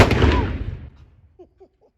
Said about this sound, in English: Gun one ready, please cover your ears. Commence fire!